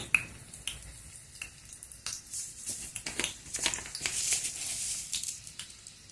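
Garlic pieces fry in a couple of spoons of hot oil for carrot chutney, crackling and popping in sharp irregular bursts, close and fairly quiet, with the sizzle building toward the end.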